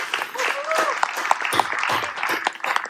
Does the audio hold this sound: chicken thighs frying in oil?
no